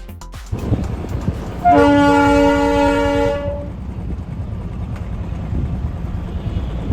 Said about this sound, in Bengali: আমাদের সেই বহু পরিচিত টয় ট্রেন